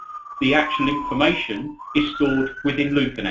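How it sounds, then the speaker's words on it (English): A siren wails steadily in the background, its pitch slowly falling then rising, while someone speaks clearly over it in the foreground. "Apologies if you can hear a siren in the background."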